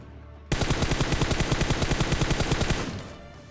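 Rapid automatic gunfire bursts in a fast, even rhythm in the video game PUBG on the Erangel map, loud and close, then trailing off at the end.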